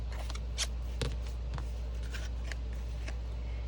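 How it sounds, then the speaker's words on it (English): Scissors snip through paper while cutting a petal for a 22-inch mummy-inspired paper flower, several short crisp cuts at an irregular pace over a steady low hum, close and fairly quiet. "Use your scissors and cut straight up the center."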